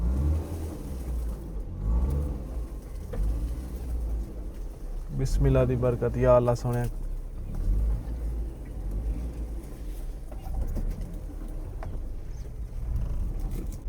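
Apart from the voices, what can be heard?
car driving along a difficult bushy path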